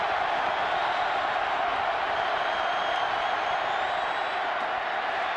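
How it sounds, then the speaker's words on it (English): A packed football stadium crowd at Auburn at Georgia in 2005 is on its feet cheering for a third down, a dense, loud, sustained roar that never lets up. "Crowd comes to their feet."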